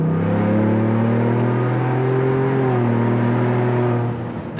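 New Ford Bronco with an upgraded exhaust, heard from inside the soft-top cabin as it accelerates on a 55 mph road: a loud, continuous engine drone rising steadily in pitch, with no talking.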